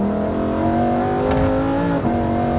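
Lamborghini Huracán Evo V10 engine pulling hard under acceleration, a loud, steady multi-toned roar heard from inside the car, with a brief dip near the end as it shifts before climbing again.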